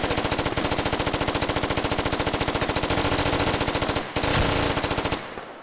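Rapid, sustained automatic gunfire in the tactical shooter Squad Ops, a loud, evenly spaced machine-gun burst lasting several seconds with a brief pause before it resumes and cuts off.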